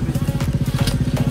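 A motorcycle out of petrol cranks without catching, a loud, close, rapid rhythmic chugging of the starter and engine repeating evenly with no speech.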